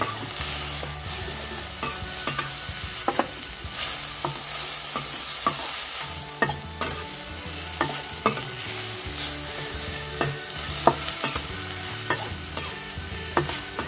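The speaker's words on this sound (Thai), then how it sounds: "การผัดต้นอ่อนทานตะวันนะคะเราจะไม่ผัดนานค่ะผัดเพียงแค่ต้นอ่อนสลดนิดหน่อยนะคะ" Sunflower sprouts stir-fried in a pan: a steady loud sizzle with repeated scraping clacks of a spatula stirring, close and continuous with no voices.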